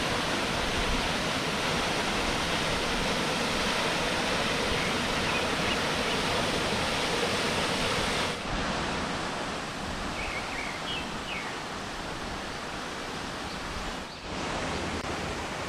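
Gitgit waterfall and its river in Bali roar in a dense, continuous wash of falling water, loud and close throughout with no voices.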